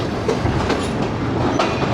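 The Shalimar Express train runs on rails near Shahdara Bagh Junction, taking a curve where three lines run parallel. A steady, loud rumble of wheels and carriages fills the clip, with a few faint clicks over the rails.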